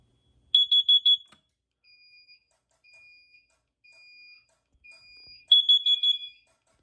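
A carbon monoxide detector sounds its temporal 4 alarm: a group of four rapid, shrill, high-pitched beeps, a few seconds of faint chirps, then the four-beep group starting again, loud and close in a quiet room.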